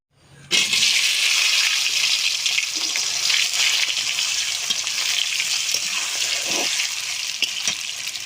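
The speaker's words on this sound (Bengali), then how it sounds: "তেলটা গরম হয়ে গেছে, তেলের ভেতর দিয়ে দেবো আলু।" Potatoes drop into hot mustard oil in a kadai, setting off a sudden loud, close sizzle that holds steady and dense throughout with no talking.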